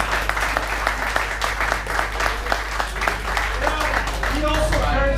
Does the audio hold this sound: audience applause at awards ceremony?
yes